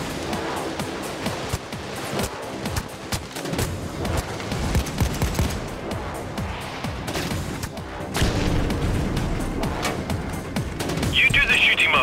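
Gunfire in the video game PAYDAY 2 during a heist fought against bulldozer enemies, dense continuous shooting and effects across a busy, loud game mix, with someone talking over it.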